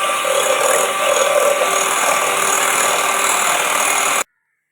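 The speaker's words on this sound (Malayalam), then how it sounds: "ഇത് നല്ലപോലെ ഒന്ന് ബീറ്റ് ചെയ്തെടുക്കാം." An electric hand beater whirs steadily at close range, churning eggs with vanilla essence for an oven-free chocolate cake, a continuous buzzing drone that cuts off abruptly near the end.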